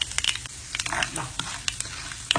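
Chana dal sautéing in hot sesame oil for Chettinad kara kuzhi paniyaram, giving a steady crackling sizzle with sharp little pops scattered throughout, close and fairly quiet.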